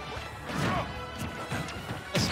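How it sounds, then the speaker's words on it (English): Smash attack landing near the ledge in a Super Smash Bros match, a loud crashing hit with thwacking impacts, backed by game music and effects. "A smash attack near the ledge on Lamentations"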